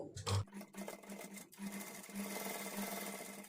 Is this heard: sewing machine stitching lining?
yes